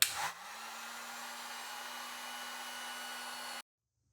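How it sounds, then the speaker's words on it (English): A heat gun blows steadily on a heat-shrink sleeve over a soldered wire connection during a military Humvee auxiliary power build. It gives a close, loud, even whoosh with a faint motor whine that runs alone for about three and a half seconds and then cuts off. "then you're gonna heat it up with the heat gun"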